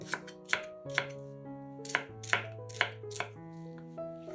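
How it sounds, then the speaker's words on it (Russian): A knife chopping sweet bell pepper into rough pieces on a board, about a dozen crisp, evenly spaced cuts close by, with quiet music underneath. "Нарезаем перец произвольными кусками."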